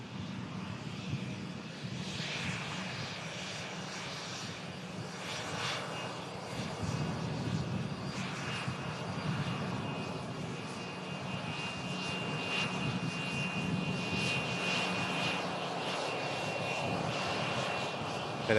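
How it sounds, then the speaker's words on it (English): Loganair Embraer ERJ jet taxiing at Manchester Airport, a steady engine roar with a whining high tone, constant and moderately distant, heard alone without talk. "we have this Embraer ERJ of Loganair, shortbread. This aircraft's carrying out the flight up to Aberdeen this afternoon."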